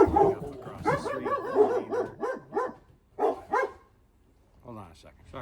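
Several dogs bark at trucks across the street in a loud burst of rapid barks and yips, then fall quiet and give a few fainter whimpers toward the end.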